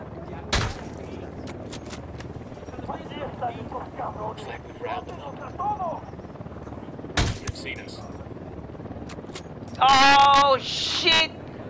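Gunfire in the video game Ghost Recon Wildlands: sharp shots crack out at intervals, a couple standing out loudly, with game radio chatter and a burst of noisy effects late on.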